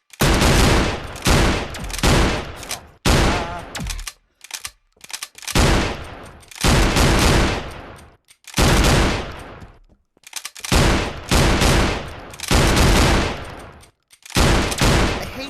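Video game machine gun fire from a minigun-style weapon, sustained loud bursts of rapid shots separated by short pauses, about nine bursts in all with no talking.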